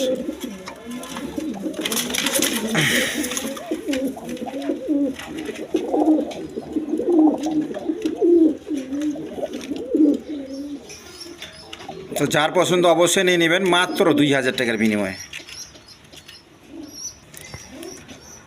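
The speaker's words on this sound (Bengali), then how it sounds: "এক পেয়ার টেরি কবুতর আছে, পাকিস্তানি টেরি কবুতর" Pakistani teddy pigeons coo softly nearby in low, rolling murmurs, mostly under someone talking at close range.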